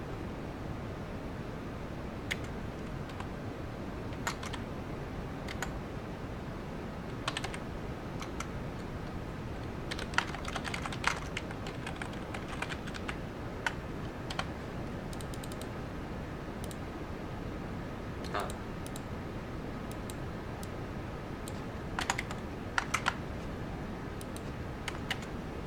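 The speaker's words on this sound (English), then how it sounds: "Then I would now type as the word primary key, and I would include my column." Steady typing on a computer keyboard while entering SQL commands: quiet, close key clicks come in irregular bursts and pauses over a faint hiss, with no voices.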